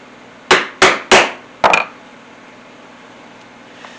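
Rivets hammered into a canvas and leather work apron, four sharp, close metallic blows in quick succession, then quiet.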